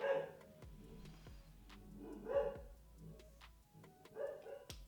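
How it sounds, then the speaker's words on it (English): Dog barking at someone passing on the street, several sharp barks spread across the moment, moderately near indoors with quiet room tone between. "That's Tucker barking at someone probably walking down the street."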